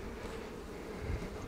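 Honey bees at an open hive during a spring inspection make a steady, dense buzzing drone, close and continuous throughout.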